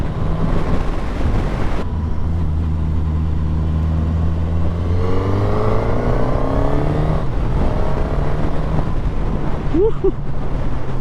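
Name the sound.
Suzuki GSX-S 1000 motorcycle riding and shifting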